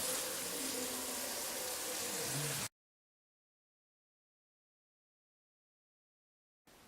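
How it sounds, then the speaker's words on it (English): Water gushes steadily from a tap into a container to cover a turkey for brining, a loud, close rush lasting a few seconds before cutting to silence, then returning briefly at the end. "take this water and continue to fill it up till it completely covers the"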